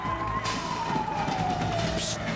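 A single steady siren tone sounds over a noisy arena crowd at a Robotica competition, its pitch sliding slowly downward.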